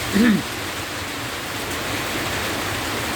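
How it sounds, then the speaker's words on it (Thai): Heavy rain with large drops falls steadily as a dense, even wash of noise, with a short vocal sound near the start above the downpour. "ฟังเสียงฝนแล้ว มาเม็ดใหญ่นะ"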